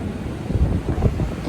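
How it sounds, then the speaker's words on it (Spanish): Strong wind buffets the microphone while large ocean waves roar on the coast of Santa Catarina during an extratropical cyclone, a loud, gusty rumble with no voices. "Miren lo que son las olas allá. Están enormes."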